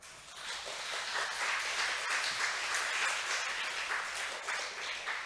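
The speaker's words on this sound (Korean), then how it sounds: "우리 박수 한번 하겠습니다." Church congregation clapping during a Sunday worship service, a dense steady round of applause with no voices, fairly soft and even throughout.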